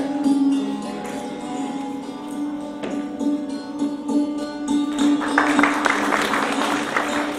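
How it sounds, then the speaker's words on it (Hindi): An audience at a convocation ceremony applauds, welcoming a graduate with a few seconds of steady clapping that grows denser toward the end, while a tonal hum runs underneath. "जोरदार तालियों से उनका स्वागत"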